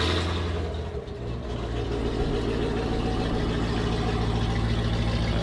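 A Jeep Grand Cherokee Trackhawk engine rumbles close by in a steady, deep drone with a brief dip early on, holding an even pitch rather than climbing.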